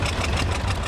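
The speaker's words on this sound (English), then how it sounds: "It's another John Deere Diesel 820." A John Deere Diesel 820 tractor idles in a fall fair parade, its low diesel thrum chugging steadily and moderately close for a brief moment, with no talk.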